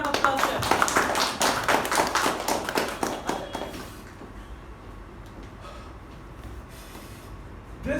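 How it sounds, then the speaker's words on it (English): A Toastmasters meeting audience gives a speaker a round of applause, loud, dense clapping for about four seconds that then stops abruptly, leaving quiet room tone. "Let's give a huge round of applause to him."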